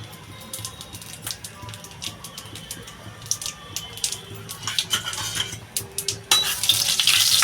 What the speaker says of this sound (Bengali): আমি সবার আগে দিয়ে দেব রসুনটা এই রাঁধুনিটা দিয়ে দেবো